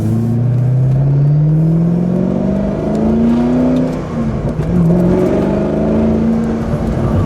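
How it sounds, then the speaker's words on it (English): A 2006 Ford GT accelerates hard, its engine note loud and close, climbing in pitch through the gears over a continuous roar, with no voices present. "So light on the throttle and yet so explosive as it takes off."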